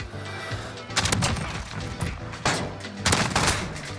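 Gunfire in the first-person shooter Call of Duty, several sharp bursts of shots at about one-second intervals against a low background hum, loud and close.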